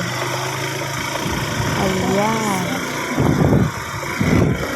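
A motorcycle engine runs steadily while riding up a dark road toward a zoo at night, a continuous drone under a voice speaking throughout, with louder rumbling bursts near the end.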